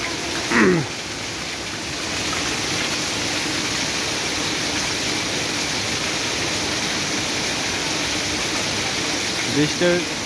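Heavy night rain pours down over the inner lanes of Joypara bazaar, a steady broadband wash like a waterfall that holds for the full stretch, with a brief voice near the start and a few faint sounds at the end.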